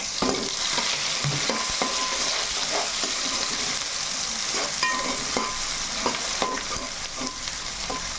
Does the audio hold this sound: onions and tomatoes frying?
yes